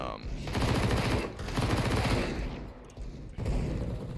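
Rapid automatic fire from an MP9 submachine gun on a crowded video game warmup server, dense overlapping bursts with sustained rattling that briefly thins near the end, many shots layered together.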